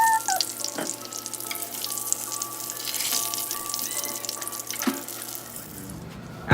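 Salmon croquettes frying in hot oil, a close, bright crackling sizzle that runs steadily with a few sharper pops, no voices over it.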